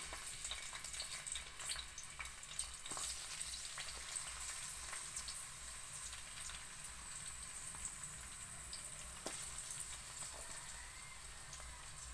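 Sliced onions fry in oil in a pan for a squid stir-fry, giving a soft, continuous crackling sizzle with occasional small pops, fairly quiet throughout and without talk.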